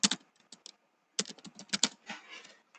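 Fingers type a password on a computer keyboard, a close cluster of quick clicks, a brief pause, then another flurry of keystrokes ending in softer taps.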